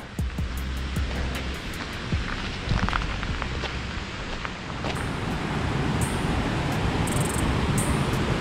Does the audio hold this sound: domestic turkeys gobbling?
no